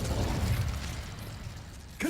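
Casting the Incendio fire spell in Hogwarts Legacy gives a short mechanical whoosh and rumble, ending in a sudden sharp burst near the end.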